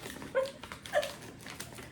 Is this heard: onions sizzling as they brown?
no